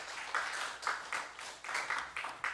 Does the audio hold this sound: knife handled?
no